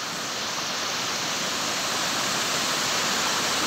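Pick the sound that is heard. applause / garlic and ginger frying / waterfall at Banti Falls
waterfall at Banti Falls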